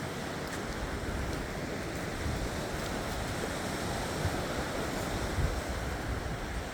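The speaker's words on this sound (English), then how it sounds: "the lovely sea." Sea waves wash onto a beach at Bacton, Norfolk, making a steady broadband roar of surf mixed with wind buffeting the microphone, continuous and fairly loud throughout with no voices.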